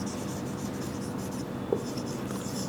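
Pen or pencil scratching on paper while a word is written by hand during an astrology lesson, a steady soft scraping texture close to the mic with a small tap near the end.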